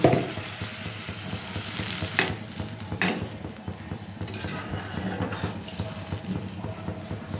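Water splashed into sizzling masala for a Bengali egg curry: a steady frying hiss with a few louder bursts, and spoon scrapes and pan clatter as it is stirred.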